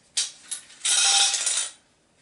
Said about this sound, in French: il n'y a plus qu'à mettre les serre-joints en évitant que les tranches se déplacent au moment où on va serrer.